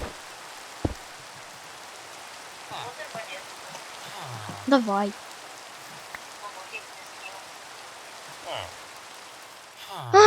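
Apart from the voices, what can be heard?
rain falling in a video game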